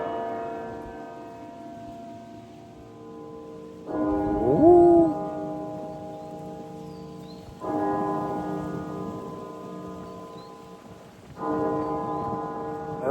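York Minster's church bells ring in three loud swells, each a rich, ringing chime that fades into quieter gaps, heard from outside at some distance.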